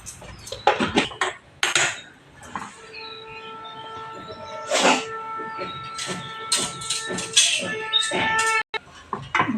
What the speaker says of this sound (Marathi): हे आपण असे छानपैकी ढवळून ढवळून चांगलं आटवून घेणार गुळाचा आता पाक होईल